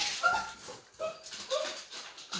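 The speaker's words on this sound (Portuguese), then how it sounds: "Quem tá fazendo esse barulhinho aí é a minha cachorrinha Naim" A small pet dog whimpers and gives soft little yips in short repeated bursts, fairly faint and close, with no talking.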